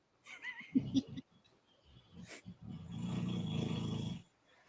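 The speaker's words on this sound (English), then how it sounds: "Some snoring." A sleeping dog snores softly at close range, with brief snorts and breaths followed by a longer rumbling inhale, quiet in a room.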